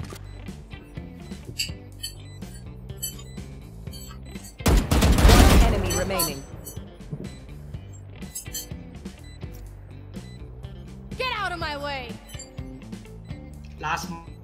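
Gunfire in the shooter game Valorant, a burst of rapid shots mid-clip among scattered clicky game sounds, with players talking over it.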